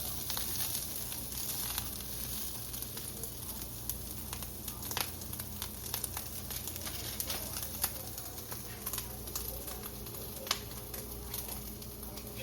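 Sausage fries in a pan with a faint steady sizzle and scattered small pops and crackles, quiet and continuous throughout.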